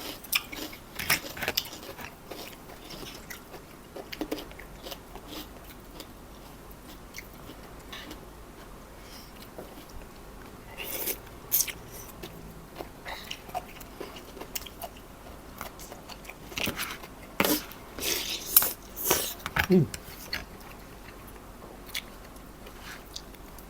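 Crispy fried pork snack chewed close to the microphone, with scattered soft crunches and bites spread over a quiet background, a few louder crunchy bursts clustering toward the end.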